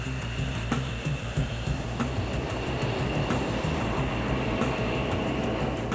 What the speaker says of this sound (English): In their first stab at synchronicity, the 4 pilots take off as one